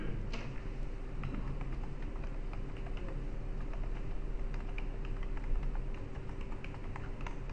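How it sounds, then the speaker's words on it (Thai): Fast, light typing on a computer keyboard: soft keystroke clicks run continuously over a steady background hum, with no talking. "ให้เราพิมพ์ตรงนี้ไปได้เลยค่ะ"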